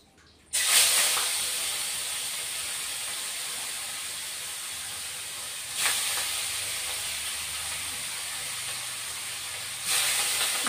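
Fish coated in turmeric and salt hitting hot oil in a pan, a sharp loud sizzle that settles into a steady hiss, with two more bursts of spitting as pieces are added or turned.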